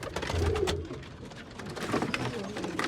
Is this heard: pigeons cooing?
yes